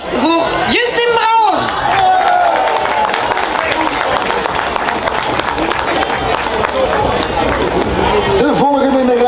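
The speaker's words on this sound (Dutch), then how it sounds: "En dan ook een applaus voor Justin Brouwer" A crowd at a carnival prince's investiture event applauds a carnival honouree, dense continuous clapping and cheering close by, with voices and whoops mixed throughout the full stretch.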